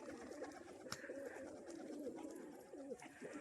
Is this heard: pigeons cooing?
yes